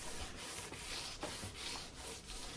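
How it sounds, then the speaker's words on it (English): Wood shavings are rubbed back and forth over a wooden surface to burnish it, making soft, rhythmic scraping strokes about every half second, faint and close, with no speech. "use the wood shavings themselves to varnish the surface"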